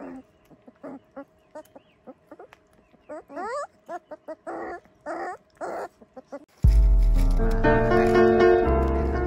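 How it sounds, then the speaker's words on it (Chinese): Month-old puppies give a string of short, high whimpers and yelps in quick bursts close by, then a sudden loud swell of music drowns everything out. "这个小狗狗都长好大了，现在他们都开始吃肉了。"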